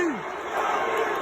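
An away stadium crowd in Houston roars and cheers loudly and continuously as Aaron Judge of the New York Yankees hits a home run, with voices shouting close by.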